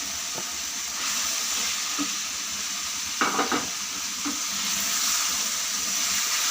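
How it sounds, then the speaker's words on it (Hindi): Sizzling chicken fries in a pan, giving a steady hiss throughout as previously fried okra is added. A brief burst of crackling and clatter comes partway through, and a few soft utensil taps follow. "अब हमने इसमें ये फ्राई की हुई भिंडी ऐड कर देनी है।"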